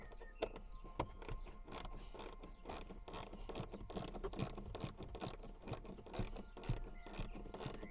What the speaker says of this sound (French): Ok, on va finir ça à la clé.